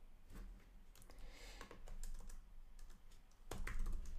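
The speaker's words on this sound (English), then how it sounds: "Let me type that out." Computer keyboard typing as a web address is entered, with bursts of key clicks in quick irregular runs, fairly close but quiet, and a louder flurry of keystrokes near the end.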